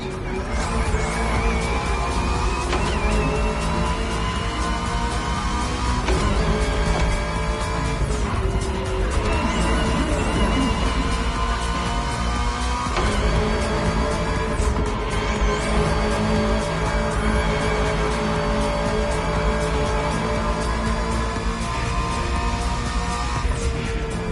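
Ferrari 488 GT3, McLaren Senna GTR, Bugatti Bolide and Lamborghini Essenza race cars in The Crew Motorfest roar continuously with rising and falling engine pitch and gear shifts, loud and close, with tire squeals and no talk.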